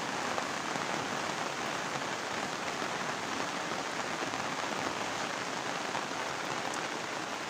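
Heavy morning rain pours down in a dense, unbroken hiss of countless drops striking surfaces, steady and loud throughout, with no voices.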